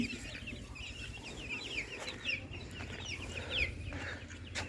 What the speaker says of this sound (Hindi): ये साढ़े मुर्गियाँ